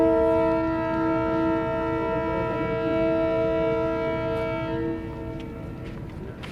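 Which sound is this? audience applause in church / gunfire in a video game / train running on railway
train running on railway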